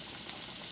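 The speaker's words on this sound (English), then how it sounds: "these are garlic scapes, and we're frying them up" Garlic scapes frying in a pan, a brief steady hiss and crackle of sizzling heard close and alone.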